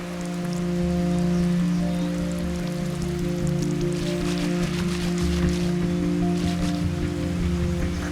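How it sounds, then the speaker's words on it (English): Heavy rain falls in a steady hiss of drops over a constant low, humming drone, with the patter growing a little brighter and denser partway through. "Oh, it's getting wet. Wow, it's raining a lot."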